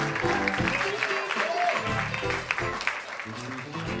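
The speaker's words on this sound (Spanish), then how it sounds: "más fuerte el aplauso para Mario Zúñiga" Audience at a Christian music festival in Coquimbo applauding Mario Zúñiga, moderately loud continuous clapping with voices mixed in underneath.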